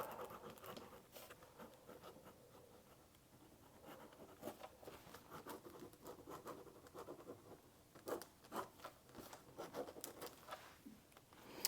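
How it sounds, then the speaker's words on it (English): Pen scratching and tapping on deli paper with water-soluble ink, a steady soft scrape broken by sharper strokes, close and fairly quiet with no talk over it. "So I'm just going to do some pretend writing on here"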